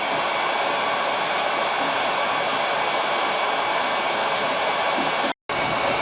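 Close and loud, a heat gun blows hot air at around 650 to 850 degrees Fahrenheit to soften epoxy on a wooden Pygmy kayak sponson, a constant whooshing hiss that stops abruptly near the end.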